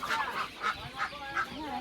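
Chickens clucking at a Turtkul poultry market, several short bursts in a row, close and fairly quiet.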